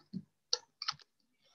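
Three quick, quiet bursts of keystrokes on a computer keyboard as a search word is typed, with short pauses between them and no talk.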